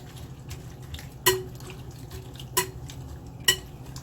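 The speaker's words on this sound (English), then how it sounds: "we will continue to mix that until it is well combined and settled" Ingredients for a quinoa breakfast bake being mixed in a bowl: a steady soft stirring rustle broken by three distinct utensil knocks against the bowl, close up, with no talking.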